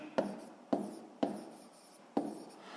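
Pen or marker writing by hand during a sixth-grade maths lesson on the base area of a rectangular box, four short scratchy strokes spaced irregularly, close and fairly quiet, no talking.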